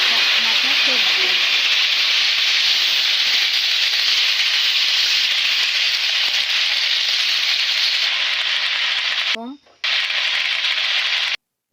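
Vegetables hit hot oil with bay leaf and cumin in a pan, giving a loud, steady sizzle of frying that runs on continuously before a brief stir-like break near the end.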